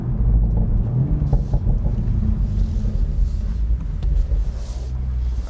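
A 2020 BMW Z4 M40i engine runs steadily with a deep, continuous low rumble, close and loud, with some wind noise over it and no talking.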